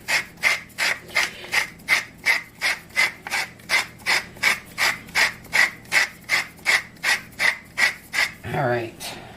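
A pepper mill grinds black pepper in about twenty quick, evenly spaced rasping twists, close and crisp, ending with a short rattle.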